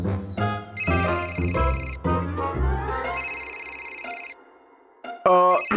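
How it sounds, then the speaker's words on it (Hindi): A telephone rings in a hotel setting with bright repeating electronic tones, in bursts with short gaps, loud and close, a few voices mixed in. "शर्मा जी का होटल से फोन है, थोड़ा इम्पोर्टेंट है"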